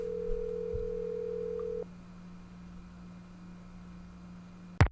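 A car phone in the Nancy Drew: Secret of the Scarlet Hand video game gives a steady dial tone that cuts off after about two seconds into a faint hum, ending with a sharp click.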